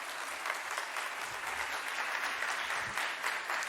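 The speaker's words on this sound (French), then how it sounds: "on peut l'applaudir" An audience applauds a speaker at a talk on a bio-sourced school building, dense steady clapping from many hands, moderately loud and continuous for the whole stretch.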